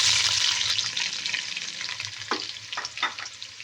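Cinnamon and onion frying in a pan give a loud, dense sizzle that eases slightly, with a few sharp stirring scrapes near the end and no voices.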